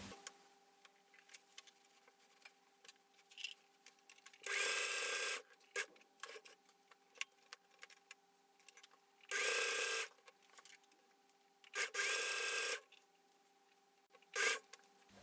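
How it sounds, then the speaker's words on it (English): A sewing machine runs a short straight stitch on a lolita underbust jumper skirt in short loud bursts of rapid whirring, four main runs with pauses between them, plus a brief final burst over a steady low hum. "So I'm just gonna sew all the way around with a short straight stitch."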